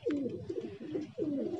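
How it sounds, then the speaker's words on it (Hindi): Pigeons coo nearby in a pair of soft, rolling calls, one after another, with no other sound over them. "ये कबूतरी है, और ये आगे नर है दोस्तों।"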